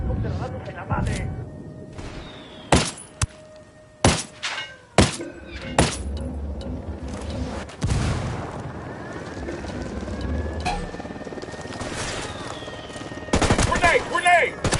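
Mortar fire and gunfire in a Ghost Recon Wildlands battle: loud booming blasts and bursts of shots hit at irregular intervals, with rumbling explosions and sustained rattling fire, and game voices speak in between.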